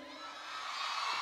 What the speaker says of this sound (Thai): ยังไม่หยุดกรี๊ด